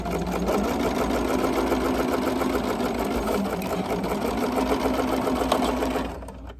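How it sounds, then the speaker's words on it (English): A sewing machine stitches quilt block pieces in one continuous, steady run of rapid mechanical whirring close up, then slows and stops near the end. "here's my needle, and I'm sewing straight to that piece right there"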